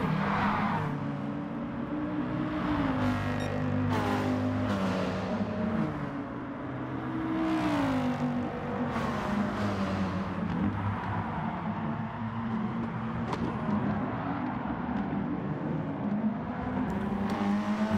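Group B race cars racing at Laguna Seca, engines revving and whining as cars accelerate and pass in repeated waves, steady and fairly close throughout.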